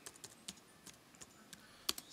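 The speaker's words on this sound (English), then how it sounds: "what we're going to do is we're going to type in dpkg." Someone types a command on a computer keyboard, a quiet sequence of separate key clicks in uneven rhythm, close and alone with no talking.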